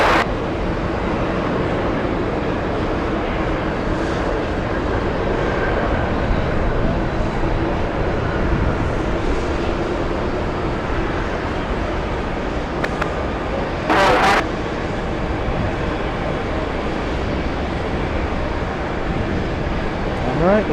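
Airliners landing on the close runway at JFK airport fill the air with a continuous broad jet roar, loud and steady, with wind and distant traffic noise mixed in.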